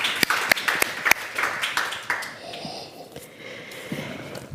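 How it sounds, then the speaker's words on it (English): A small group at a summit conference claps in sharp, distinct strikes for about two seconds, then the applause thins out and fades into quiet room noise. "A grand round of applause for Can."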